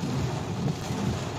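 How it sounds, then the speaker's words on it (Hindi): Rain falls on an open market in Mysore, heard as a steady, dense wash of noise with a low rumbling undertone and no speech. "अभी बारिश हो रही है"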